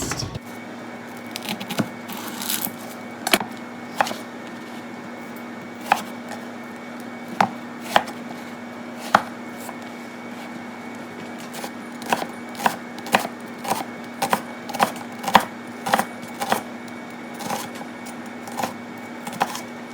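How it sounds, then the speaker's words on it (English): A knife thinly slicing an onion on a cutting board for a fajita meal kit, a long series of sharp, close chopping taps at an uneven, steady pace over a low background hum. "half peel and thinly slice onion"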